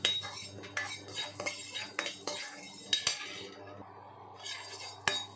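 Fenugreek seeds dry-roasted in an empty kadai rattle and scrape under repeated metallic spoon strokes, close up, with a brief pause before the stirring resumes.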